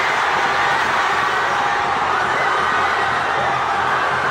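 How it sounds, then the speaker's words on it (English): Broad, sustained roar of a cricket crowd at a one-day international between the West Indies and Zimbabwe, cheering steadily after a boundary in the final over, loud and continuous with no break across the whole stretch. "They've got the crowd jumping."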